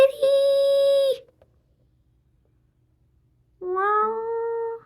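A kitten gives two clear, close meows, one at the start and one near the end, separated by a few seconds of silence.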